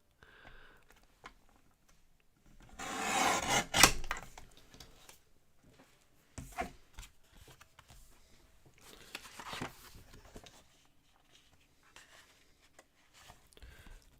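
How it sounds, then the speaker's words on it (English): A paper trimmer blade slides once across a card to shave a thin sliver off its top edge, a short close scraping swipe followed by soft clicks and handling sounds. "I'm going to trim a sliver off the top because there's a little bit of a lip on it."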